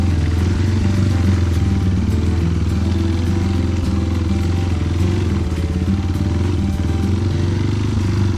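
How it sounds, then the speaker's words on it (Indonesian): A dirt motorcycle is forced out of a muddy forest trail, its engine droning loud and close at a steady labouring pitch, with faint clatter and rattling from the bike over the whole run. "motor kami paksakan sampai keluar dari dalam hutan."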